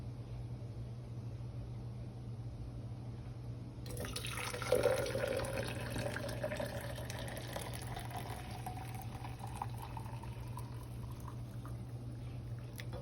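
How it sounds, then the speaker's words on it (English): Hot water poured into a glass jar, a soft hollow stream that starts suddenly after a few seconds of quiet room hum, then continues as a rising fill, faint and alone. "Then you're going to pour the hot water into a glass jar or some type of jar."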